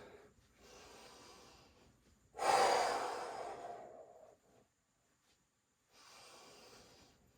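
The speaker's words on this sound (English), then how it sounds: "A couple of big exhales." Two or three deep breathy exhales during a guided Pilates workout, the middle one long, loud and close, with quieter softer breaths before and after a short silence.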